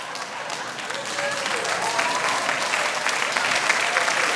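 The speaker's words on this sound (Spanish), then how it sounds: "Mire cómo aplauden" An audience at a church sermon breaks into sustained, dense applause that builds slightly and holds steady, a full room of clapping hands heard close and loud.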